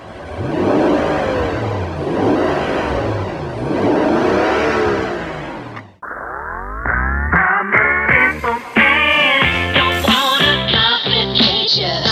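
A 2023 Rolls-Royce Ghost engine revs up loudly and smoothly in two long surges. A sharp cut follows, then a burst of bright, tonal whirring and rising notes.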